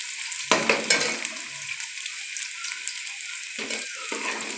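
Ingredients sizzling and frying in a pot while chicken Chinese rice is cooked with cardamom and cumin, with a few sharp stirring scrapes near the start, then a quieter steady sizzle and another scrape toward the end.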